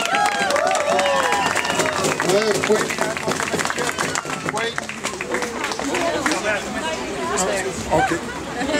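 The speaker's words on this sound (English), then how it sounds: "On l'applaudit!" A crowd at a First Nations rally in Montréal claps and cheers loudly for a welcomed guest, with busy chatter and voices mixed through the applause.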